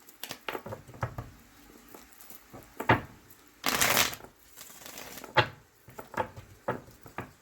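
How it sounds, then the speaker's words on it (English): Tarot cards being shuffled by hand, a run of close, soft riffling bursts and papery flutters with short pauses between them, one longer shuffle in the middle, and no talking. "Yes, I know my shuffling is hella fucked up right now."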